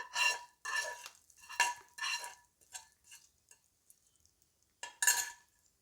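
Curry leaves and tempering spices hit hot oil and get stirred, giving several loud bursts of sizzling hiss with metal spoon scrapes between them, fading to quiet taps before one last sharp burst.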